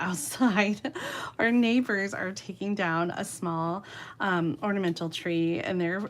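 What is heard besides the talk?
No distinct noise like a dog, phone or traffic.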